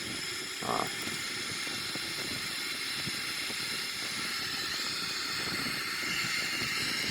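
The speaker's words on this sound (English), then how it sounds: "So you can see here the takeoff roll of the aircraft" Boeing 777-300ER on its takeoff roll, heard as a steady, loud broadband roar and hiss of engines with a faint bump near the start, continuous throughout with no talking.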